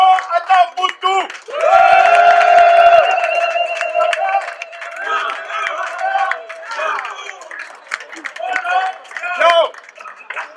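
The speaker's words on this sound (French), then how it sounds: "Alors, on va l'applaudir, il s'appelle Léo Atabuntu." An audience claps and cheers for the performer Léo Atabuntu, with a burst of applause near the start that swells and then thins into scattered clapping under a voice speaking over the crowd.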